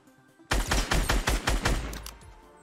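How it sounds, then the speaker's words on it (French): Burst of rapid gunfire in a Fortnite Battle Royale match, with a string of loud, closely spaced shots that begin abruptly and fade into a trailing echo. "ça tire par là"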